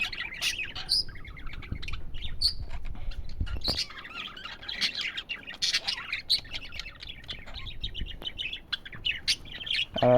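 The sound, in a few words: male pet parrot singing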